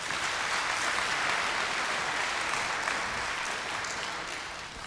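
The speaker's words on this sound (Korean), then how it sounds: "박수로 환영하십니다." Audience applause welcoming a speaker to the stage at a Korean church mission conference, a steady dense wash of clapping lasting throughout and fading slightly at the end.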